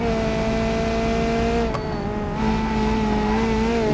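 A 90s touring car engine held on throttle in a BeamNG racing game at the Nürburgring Nordschleife, a loud, steady droning roar with sustained harmonic whine and slight pitch wavering, close and continuous throughout.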